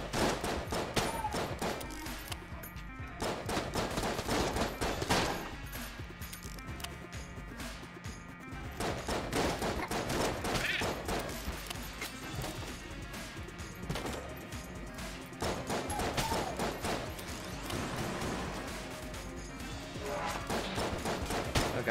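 Sustained bursts of AK rifle fire in the video game Enter the Gungeon, dense rapid shots in repeated volleys over about twenty seconds with crashes mixed in, fairly quiet overall.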